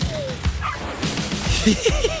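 A dog barks and yips in a Polish film trailer, giving several short, close woofs and a whimper amid busy dramatic sound and brief voices.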